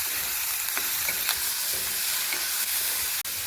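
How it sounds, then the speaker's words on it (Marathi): Masala of tomato and curry leaves frying in a pan for chhole, a continuous close sizzle with light scraping stirs throughout, no voices. "आता आपण हा मसाला चांगला फ्राय करून घेऊ।"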